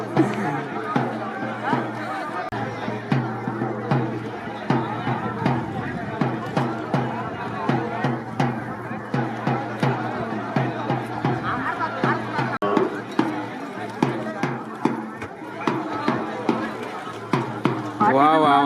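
Crowd noise at a village bull race festival, the Raje Raghuji Baba Shinde yatra in Yeola, with a dense, steady hubbub of chatter and cheering, while someone speaks loudly over it throughout.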